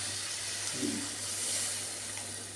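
Tamarind water poured into a hot pan of frying masala for dried-fish curry, a faint steady hiss and sizzle held close throughout, with no talk.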